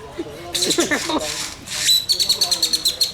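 A bird calling at the San Antonio Zoo, with squeaky, trilling chirps in quick bursts followed by a run of rapid repeated high notes, close and fairly loud.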